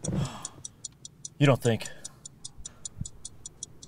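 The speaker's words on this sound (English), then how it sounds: "Do you hear something ticking?" A steady, regular ticking, like a clock or timer, runs faintly through the whole moment while a person speaks briefly over it.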